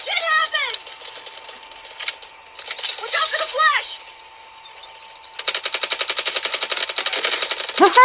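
Automatic gunfire in Delta Force Mobile, a fast, even rattle of shots, thin and tinny, following earlier scattered game sounds and someone talking.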